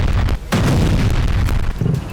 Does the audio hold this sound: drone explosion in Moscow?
yes